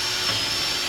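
A power drill bores a hole through wood for a convertible porch build, a steady high whine held at constant pitch for the whole second.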